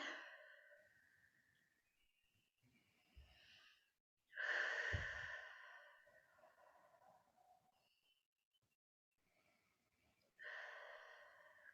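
Three slow, deep breaths, each a drawn-out airy inhale or exhale close to the microphone, separated by quiet pauses.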